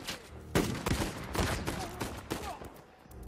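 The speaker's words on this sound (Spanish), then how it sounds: "Me llueven tiros de todos lados." Dense, overlapping gunfire from an Uncharted 4 firefight, with repeated sharp shots cracking in from several sides in quick irregular bursts, loud and close throughout.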